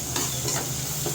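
Freshly ground pepper and spices being mixed into a tangy tamarind-ginger inji puli mixture, a short close stretch of soft sizzling with faint stirring scrapes and a low steady hum.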